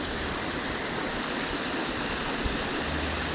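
Water pouring over a small farm creek spillway, a steady close-up rushing and splashing roar that stays even throughout.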